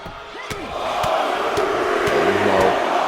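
Arena crowd roaring and cheering in the WWE 2K wrestling video game, a steady swelling wall of noise with a few sharp bangs and shouts rising through it.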